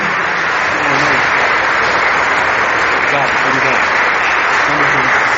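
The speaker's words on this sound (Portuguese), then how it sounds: "Aplauda o Senhor" Congregation applauding during an evangelical church service, broad continuous clapping filling the room while a voice speaks briefly over it.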